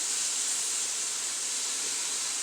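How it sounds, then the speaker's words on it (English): Steady, loud hiss of steam rising from a skillet of mushrooms being deglazed, continuous and close with no other sounds. "We're deglazing"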